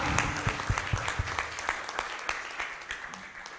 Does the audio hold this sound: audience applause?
yes